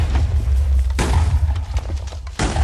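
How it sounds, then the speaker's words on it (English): TNT blocks exploding in Minecraft, two sharp booming blasts about a second and a half apart, each with a deep low thump over a steady background din. "I'm seeing multiple mushrooms drop with every TNT explosion"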